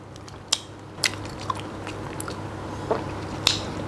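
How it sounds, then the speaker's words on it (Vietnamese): Crispy fried noodles in a spicy sauce are bitten and chewed up close, giving several sharp crunchy bites spaced apart over a soft, quiet background. "Cho nên mình ăn á, mình cắn thì nó giòn."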